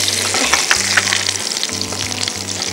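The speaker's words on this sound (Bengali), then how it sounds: "এর সাথে কারি পাতাটা দিয়ে দিচ্ছি" Chicken pieces and curry leaves fry in an oiled pan with a loud, dense crackling sizzle, alone and close, over a steady low hum.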